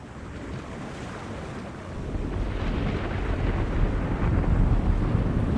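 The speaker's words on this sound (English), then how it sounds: "Is it my imagination, or is the storm getting closer?" Stormy sea in The Longest Journey video game: a steady, loud roar of wind and crashing waves with deep low rumbling like thunder, building slightly in intensity over the few seconds, with no voices.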